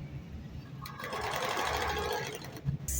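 A sewing machine stitches along a sleeve cuff edge, a steady close mechanical whir that runs nearly the full clip, with a brief clatter near the end.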